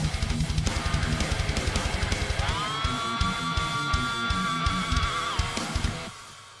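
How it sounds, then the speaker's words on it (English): Electric guitar in a death/thrash song plays chugging palm-muted riffs, then a sustained dive-bomb note holds and bends for a few seconds before the driving rhythm returns, loud and distorted throughout. "so what I did was I did 2 dive bombs"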